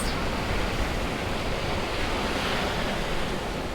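Ocean surf at Poipu Beach on Kauai, Hawaii: a constant, dense wash of breaking waves mixed with wind buffeting the microphone, with no voices.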